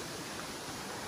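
Water rushing down a hillside channel beside a road, strong enough to drag rocks along, heard close up as a steady broadband wash with no break or talk.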